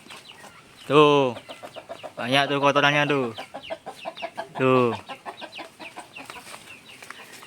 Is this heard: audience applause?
no